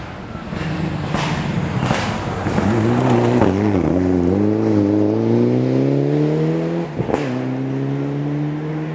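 A Mitsubishi Evo rally car races along a stage in the 2012 STPR Rally, its engine loud and close, rising steadily through the gears with sharp shift breaks and a brief pop near the end.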